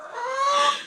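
A backyard hen in a coop with nesting boxes gives one drawn-out, wheezy, squawking call, close and clear, lasting about a second.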